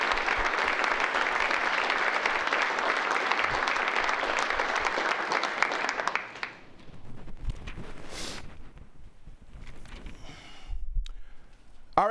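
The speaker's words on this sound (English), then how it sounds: "let's give a round of applause to all that have made it through a challenging year." A standing audience at a city's state-of-the-city presentation gives loud, sustained applause for about six seconds, then it fades to scattered claps, rustling and murmurs in a large hall.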